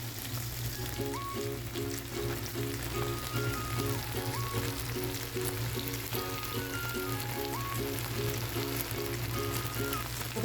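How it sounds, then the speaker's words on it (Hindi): Chicken leg drumsticks frying in hot oil, a steady dense crackling sizzle that runs continuously at close range under a faint tonal hum, with no voices. "हमें चिकन लेग ड्रम्स को जो है ना फ्राई होते हुए देखिए"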